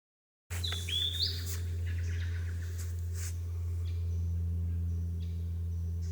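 A robin calls from leaf litter on the ground in Victoria, with thin high chirps clustered early, then fainter scattered notes over a steady low outdoor hum.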